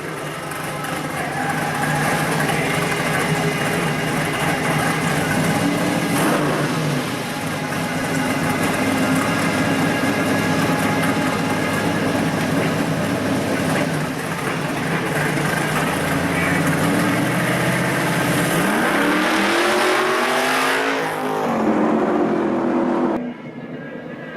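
A powerful drag race car engine roars loudly and steadily at launch, then winds up sharply in pitch near the end before cutting off abruptly.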